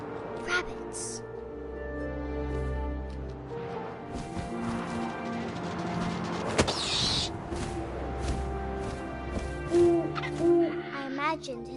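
Owl hoots from What Remains of Edith Finch sound over a layered wind-and-nature soundscape, with a sharp swoop or strike near the middle and a few short tonal calls toward the end.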